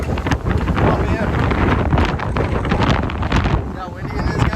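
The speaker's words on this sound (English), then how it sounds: "the wind is so strong" Strong wind on a beach buffets the microphone in a continuous loud roar, with gusts rising and falling throughout and faint voices underneath.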